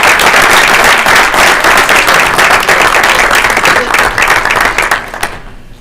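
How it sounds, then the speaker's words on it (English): An audience at a school board meeting bursts into loud, dense applause that holds steady, then thins and fades out at the end. "How about a round of applause?"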